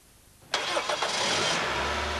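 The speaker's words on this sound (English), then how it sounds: "start the engine. Warm up the engine completely." A car engine cranks and catches after a brief quiet moment. It settles straight into a steady, close idle.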